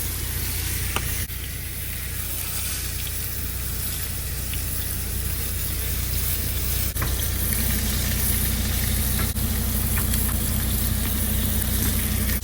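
Steak frying in a pan inside a semi truck cab with the windows down, a steady close hiss of sizzling fat running the whole time over a low engine-like hum.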